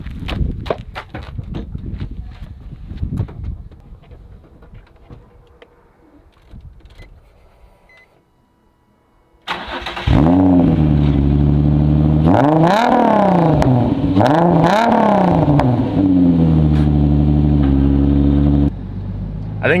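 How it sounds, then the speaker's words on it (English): A Nissan 350Z engine cold-starts after sitting overnight, loud and close, catching abruptly and then rising and falling through several strong revs before settling, with a brief voice just before the start. "350Z cold start, baby."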